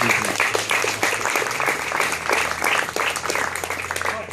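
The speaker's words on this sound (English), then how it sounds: "So can we give Brett a hand of applause?" A crowd at a Labor campaign launch in Toowoomba South gives Brett a hand, with a continuous, moderately loud wash of clapping and a low hum underneath.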